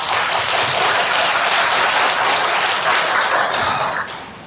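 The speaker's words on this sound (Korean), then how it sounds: "우리 하나님께 영광의 박수 한번 올려드립시다." Church congregation at a Sunday worship service giving a round of applause: loud, dense, continuous clapping filling the hall, tapering off at the end.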